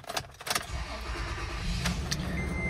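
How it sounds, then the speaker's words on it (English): A blue 2008 Toyota Tacoma TRD Off-Road 4x4 with about 111,000 miles cranks briefly and fires up, then settles into a steady idle. The engine is heard close by, with no talking over it. "Let's go ahead and fire it up."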